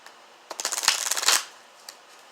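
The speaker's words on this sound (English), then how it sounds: "I also want to pick another oracle card for you from my Lover's Oracle." Oracle cards being shuffled, a short close burst of rapid riffling flutters lasting about a second in a quiet room, followed by a single soft tap.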